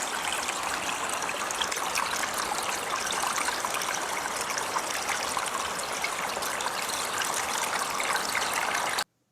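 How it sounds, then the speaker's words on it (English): The water of a river runs in a constant, close rush of fizzy trickling and gushing, steady for about nine seconds before it cuts off abruptly. "Marley was near the running water of a river."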